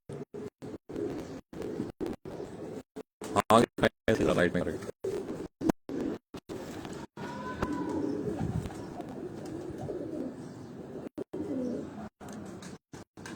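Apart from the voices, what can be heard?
pigeons cooing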